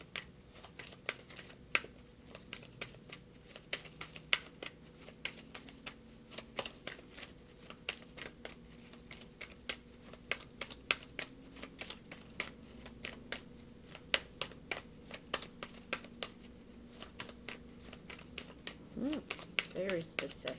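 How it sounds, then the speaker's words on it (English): Tarot cards being shuffled by hand, a long run of crisp, rapid flicking and riffling clicks that continue steadily at close range, with a quieter bed of background sound beneath. "I'm going to shuffle them one more time."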